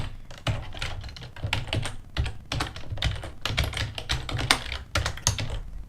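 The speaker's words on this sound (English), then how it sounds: "Some good typing today." Rapid typing on a computer keyboard while scripting a top-down action adventure game, with steady clustered keystrokes and short pauses running throughout, close and fairly loud with no voices.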